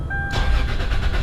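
A truck engine turns over and catches after a shifter bushing replacement, a sudden loud rumbling start that settles into a steady close idle following a brief high whine.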